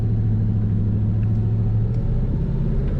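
A 1940 Ford Standard 5-window coupe with a three-on-the-tree manual transmission runs with a steady, close, low engine rumble that holds even throughout, with no voices over it.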